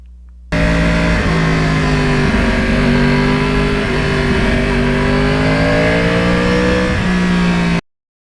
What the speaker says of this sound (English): I really fell in love with the exhaust note